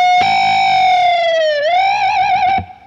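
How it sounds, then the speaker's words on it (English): Electric guitar moving from a clean tone into heavy distortion, a single sustained note with wavering vibrato that rings loud and close, then cuts off sharply. "that was a clean sound that I managed to smash into a distorted sound"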